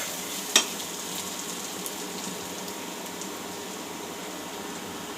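Potatoes fry in a pan for aloo bhaji, a continuous close hiss of frying with no talk over it and a single sharp click near the start.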